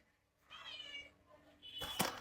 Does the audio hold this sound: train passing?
no